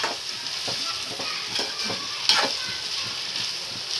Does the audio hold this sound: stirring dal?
yes